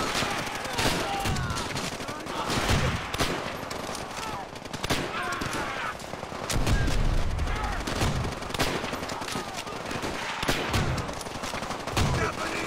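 Bursts of machine gun fire and scattered gunshots in the World War II video game Call of Duty: World at War, loud and sustained, with a voice talking over the shooting.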